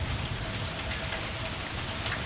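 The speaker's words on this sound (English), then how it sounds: "it's literally pouring so hard all day long" Heavy rain pours down steadily, a dense, loud hiss of countless drops hitting surfaces with no letup.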